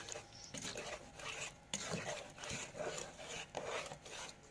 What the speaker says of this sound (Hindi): अब हम चम्मच की मदद से इसे अच्छी तरह से मिक्स कर लेंगे।